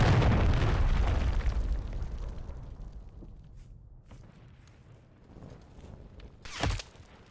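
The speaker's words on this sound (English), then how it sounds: "Hostiles launched a cruise missile." A cruise missile explodes in the Modern Warfare 3 video game, opening with a heavy deep rumbling blast that slowly fades over several seconds, then smaller crackles and a sharp pop near the end.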